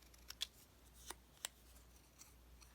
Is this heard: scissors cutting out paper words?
yes